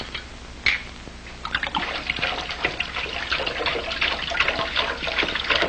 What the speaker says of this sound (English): Pour it in the sink.